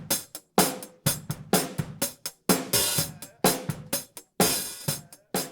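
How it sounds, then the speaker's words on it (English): Recorded hi-hat with no high-pass filter, a dense run of quick ticks and open washes mixed with low drum thumps and kit bleed, busy and continuous at close range. "This is the sound of the hi-hat before the high-pass filter."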